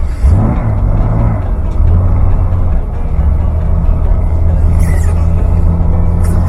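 A 1992 Jeep Cherokee engine runs rough instead of settling into a steady idle, a loud continuous low rumble with uneven throbbing heard up close for several seconds with no speech.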